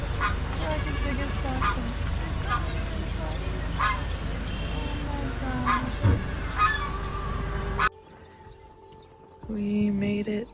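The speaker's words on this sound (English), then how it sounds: "There's little baby goats." Tiny baby goats bleat at a roadside stop, several high honking calls scattered over continuous background noise and voices. Near the end the noise drops away, leaving a short quiet stretch before one more loud burst.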